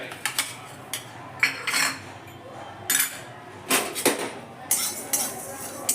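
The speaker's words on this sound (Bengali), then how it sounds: "মশলাগুলোকে হালকা করে নেড়ে দিচ্ছি আমি" Coriander, fennel and cumin seeds dry roasting in a pan are stirred with a metal utensil, giving a run of scattered scraping clinks and rattling bursts that come and go, fairly close and moderately loud, with no voices.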